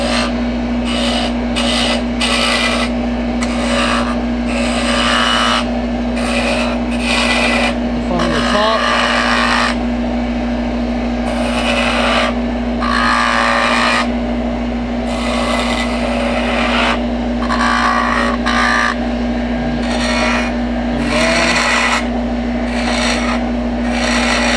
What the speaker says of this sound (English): let's just kind of rough in our shape a little bit. We'll do that with just a little roughing gouge or a little spindle gouge here.